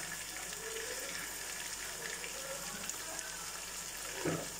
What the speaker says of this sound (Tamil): பச்சை மிளகாவை போட்டுட்டு நல்லா நம்ம வதக்கிக்கலாம்.